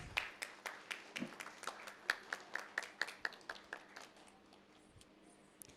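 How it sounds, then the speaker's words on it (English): A small audience at an event gives a round of applause: a couple dozen distinct hand claps in a loose, uneven rhythm, moderately near, fading out after about four seconds into quiet room tone. "Let's give them a big round of applause"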